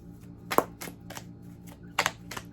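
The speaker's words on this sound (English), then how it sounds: "I'm sitting here shuffling the cards all weirdly." Tarot cards are shuffled in an irregular way, producing soft papery bursts, with two stronger riffles and lighter flicks between them, close and quiet with no speech.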